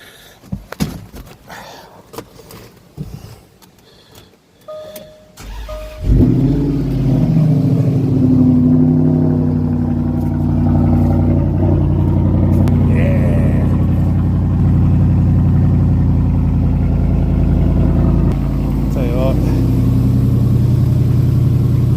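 A Land Rover Discovery 4 with a 5.0 supercharged engine, sitting unused for months, cranks with several clicks and then fires, settling into a loud, steady, close idle that runs on for over fifteen seconds.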